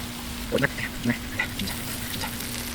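Tortillas with cheese cooking on low heat in a pan, a steady soft sizzle and crackle with a few sharper pops and scrapes, under a faint steady hum.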